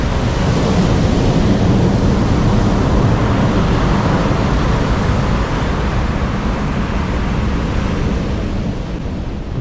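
Big autumn storm waves pound the pebble shore at Alushta, a loud, dense, continuous roar of surf with no break and no voices.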